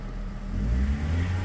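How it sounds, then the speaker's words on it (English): A car engine, warming up during a blown head gasket test, is revved gently, a low steady rumble that swells slightly over a short moment. "I've been revving the engine up a little bit"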